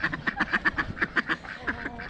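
Free-ranging farmyard ducks quack repeatedly in a rapid series of short calls, fairly close and clear, then trail off into softer scattered quacks, with no talk.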